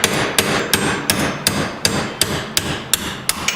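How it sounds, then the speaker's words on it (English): A hammer strikes a drift driver to knock a pin out of a Polaris RZR XP 900 front differential, ten sharp metallic blows at a steady pace, close and loud, with no talking. "we want to use your 1/4 inch long drift driver, whatever you call it, to drive this out."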